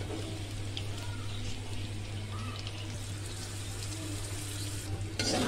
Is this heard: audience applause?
no